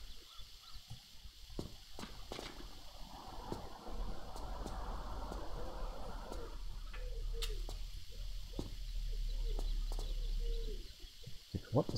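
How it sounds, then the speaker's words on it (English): An unidentified bird calls outside a window with odd, repeated cooing and chirping notes, moderately distant, over a rumbling background with scattered clicks and knocks. "there is some random bird making weird sounds"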